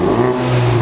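A Ford Mustang RTR engine revs with its exhaust valves closed: a loud, close, steady droning rumble in one short burst, with no talk.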